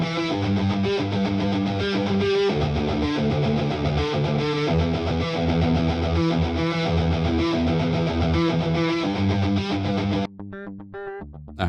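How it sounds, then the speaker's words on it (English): Distorted electric guitar played through the gray amp model of Native Instruments Electric Storm Deluxe, voiced like a 5150-style high-gain amp; thick chugging riffs with a steady rhythm fill the clip, loud and close, cutting out near the end. "Here's what one sounds like using a gray amp, which is more similar to a"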